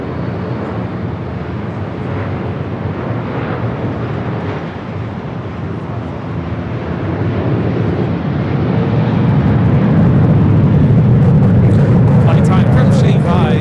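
An airliner takes off from runway 25 Left at Los Angeles International Airport, its engine roar swelling from a steady rumble to a louder sustained blast, with a voice talking over it.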